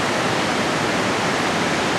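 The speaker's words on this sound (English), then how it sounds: "And you can see the water cascading down." Steady roar of water cascading over the edge of a waterfall beside the Cascade Highway, a dense unbroken broadband rush that stays loud and even throughout with no voices.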